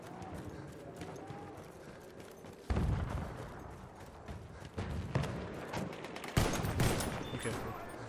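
Battlefield 1 open beta combat with scattered gunfire and bursts of shots mixed with battlefield noise, getting louder in the second half, while someone talks in French over it.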